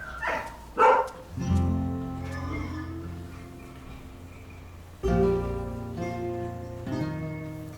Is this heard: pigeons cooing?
no